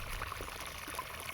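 Water pours steadily into a bucket for mixing organic fertilizer, a soft continuous trickling stream, faint and alone without any talking.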